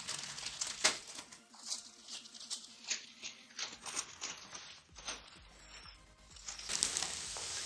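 Plastic packaging on a Samsung Galaxy M10 phone box being opened, close crinkling and rustling in irregular bursts with short pauses, a louder flurry of crackling near the end.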